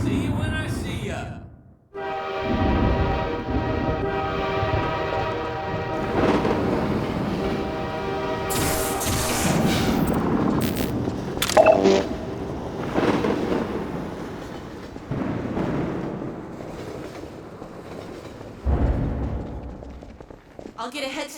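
A train thunders past in Half-Life 2 Episode One during the evacuation of City 17, with a heavy rolling rumble, metallic clatter and blaring horn blasts that swell and then fade.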